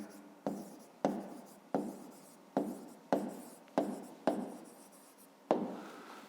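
A pen writes by hand, giving seven distinct strokes in a steady rhythm, each a sharp scratchy onset that tails off, close and fairly quiet with no talk.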